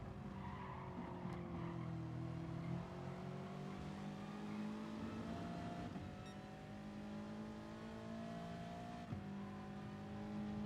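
Race car engines drone steadily through a GT Sport online race between a Lexus and a Scirocco, several cars close together with rising and falling engine pitch and brief tire skids, continuous and fairly loud throughout.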